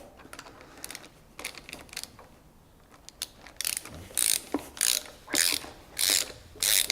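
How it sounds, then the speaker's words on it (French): Two hex keys tighten the adjustment screw on an Indexator MPB-1 pendulum brake for forestry equipment, producing close metallic ratcheting clicks in rapid repeated bursts that grow louder toward the end. "Maintenant nous allons procéder au serrage de la vis de réglage."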